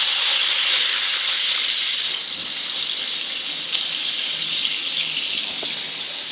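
Carrots hitting hot oil for a large batch of Afghani pulao, giving a loud, steady, bright sizzling hiss that runs continuously and eases slightly toward the end, with no talking.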